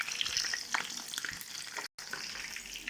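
Food frying in hot oil for Egyptian mahshi, a steady dense sizzle with crackling bursts and stirring clatter throughout, broken by one brief dropout near the end.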